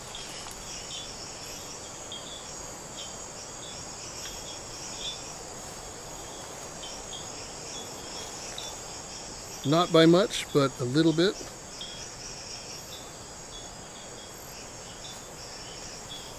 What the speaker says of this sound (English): And again, you can hear all those frogs in the background.